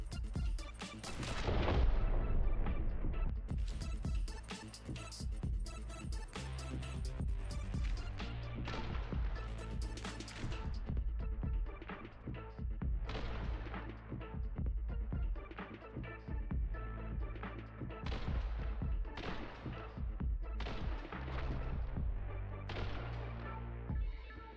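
Gunfire from the video game The Hong Kong Massacre: a rapid string of sharp shots and booming blasts, loud and closely spaced over a continuous stretch, with no voices over it.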